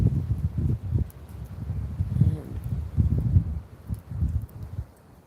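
Wind blowing outdoors beside trees, buffeting the microphone in uneven low rumbling gusts that swell and fade over several seconds, with no voice.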